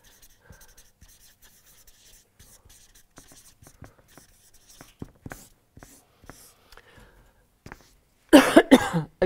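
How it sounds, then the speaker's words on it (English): Faint scratching of a pen drawing on paper during a university philosophy lecture, with small strokes and a cough or throat clearing, then a louder burst of handling noise at the end. "let me just draw things as I want to draw them"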